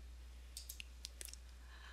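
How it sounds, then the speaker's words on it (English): Mouse clicks in a 3D modelling program while a photo frame model is being mapped, a few small sharp ticks scattered across two quiet seconds, faint and close with no talking. "Right-clicking in the middle"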